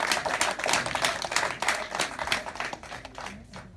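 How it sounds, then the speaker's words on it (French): An audience claps for soldiers at an embassy speech by a military attaché, a lively patter of many hands that swells and eases, then thins toward the end. "Applaudissez pour eux, applaudissez pour eux"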